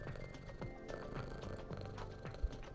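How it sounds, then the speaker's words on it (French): A domestic cat purring steadily close by, a soft continuous rumble with faint background noise and no talking. "Écoutez ce chat ronronner, cette petite musique"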